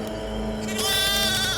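Goats bleat at night in a forest, a loud close wavering cry that rises sharply partway through and holds, preceded by a lower steady tone, with no talk.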